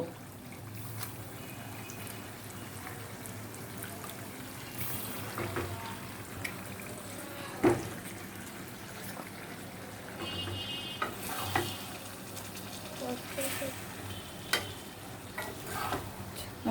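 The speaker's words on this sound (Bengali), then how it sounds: "মিশিয়ে দিচ্ছি করলার সাথে" Bitter gourd and pangas fish fry in a pan while being stirred, a steady close sizzle broken by scraping and clattering strokes of the spatula throughout.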